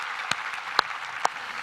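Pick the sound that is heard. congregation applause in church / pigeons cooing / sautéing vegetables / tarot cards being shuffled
congregation applause in church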